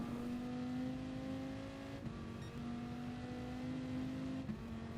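A Dodge Viper race car engine in Gran Turismo Sport on the Dragon Trail Seaside circuit holds a steady high drone through the lap, dipping briefly at a couple of gear shifts, heard alone and fairly quiet.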